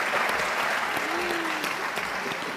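Applause in a room at a presidential press conference, a sustained, even burst of many people clapping at moderate volume, with a faint voice briefly underneath.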